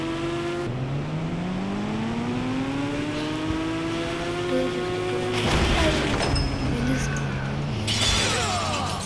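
A motorbike engine drones and shifts pitch in the Indian Bike 3D video game, running continuously with rising and falling tone and a burst of crash-like noise partway through.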